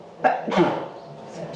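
A single sharp sneeze bursts out, followed by a second quick burst, close to the listener in a quiet room during a talk, with faint voice murmur trailing after.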